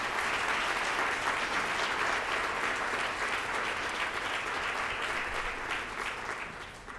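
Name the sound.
audience applause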